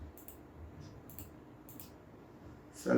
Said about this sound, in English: by clicking the filters on this page